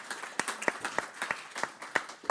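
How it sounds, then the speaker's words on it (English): Sparse applause from an audience at a talk on power, data and algorithms, a small group clapping with distinct sharp individual claps over a softer patter, moderately quiet in a room. "Give them an applause."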